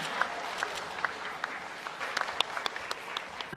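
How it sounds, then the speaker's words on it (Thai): Applause from the crowd at a charity event, fairly quiet and moderately dense, with distinct individual claps popping out above the general clapping. "ปรบมือแทนคำขอบคุณ"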